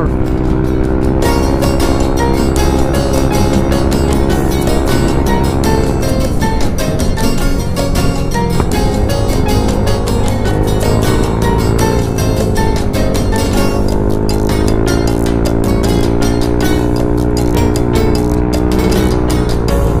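A motorcycle engine drones steadily and loudly throughout, with road and wind noise, while music plays over it.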